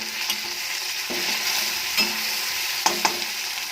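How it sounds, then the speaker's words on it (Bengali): Half a tomato fries with salt in a pan, giving a steady close sizzle punctuated by a few quick spatula scrapes and taps as it is stirred, with no voices. "তো নুন দিয়ে ভালো করে আবার কষে নেব"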